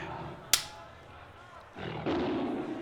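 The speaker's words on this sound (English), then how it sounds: "hear that roar of the tiger echoing throughout the battle zone" A tiger roar sound effect plays in a wrestling arena after a sharp crack, rising as a loud, rough roar in the final second over crowd-like background noise.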